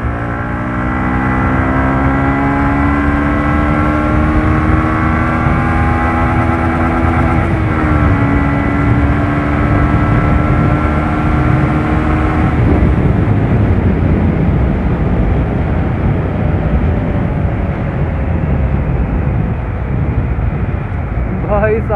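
A Yamaha R15 V2 150 cc motorcycle roars steadily while being ridden on Marine Drive in Lucknow. The loud, close engine drone drops in pitch as gears change partway through, with wind rush and voices talking.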